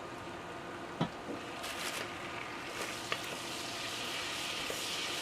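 Butter and sausage frying together in a pan, a steady soft sizzle throughout with a few brief clicks and taps of a utensil against the pan, no talking.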